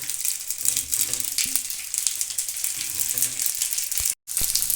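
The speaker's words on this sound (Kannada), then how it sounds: "ಒಂದೊಂದೇ ಪೀಸ್ ಹಾಕ್ಕೊಂಬಿಟ್ಟು ಸ್ವಲ್ಪ ಒಂದೇ ನಿಮಿಷ ಎರಡು ಸೈಡು ಫ್ರೈ ಮಾಡ್ಕೊಂಬಿಡೋಣ" Pieces of an instant breakfast frying in a pan, one side cooked for about a minute, giving a steady close sizzle and crackle with a few soft clinks and scrapes and a brief gap near the end.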